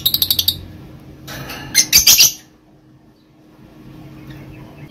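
A green opaline split pale fallow bird, also split blue, gives a quick run of bright chirps, then a second burst of sharp tweets a moment later before going quiet.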